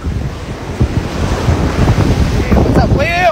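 Ocean waves wash and roar steadily at close range, with heavy wind buffeting the microphone and a brief voice-like sound near the end.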